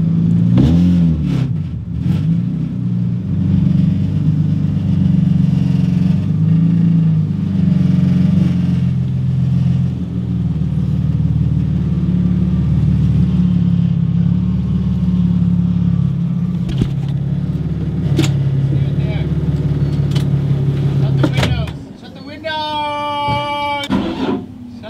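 A supercharged Infiniti Q50 with the 3.7L engine runs hard on a dyno, a loud, sustained deep roar that holds for about twenty seconds, then drops off abruptly and leaves rising whines and quieter rumble.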